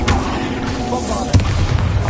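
A Bombarda blasting spell fired in a Harry Potter video game, a single booming burst partway through over a rumbling game soundscape.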